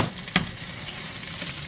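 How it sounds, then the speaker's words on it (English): Homemade meatloaf sizzling hot in a pan, a steady close crackle with a brief sharper pop near the start. "Oh, if you guys can hear that sizzling."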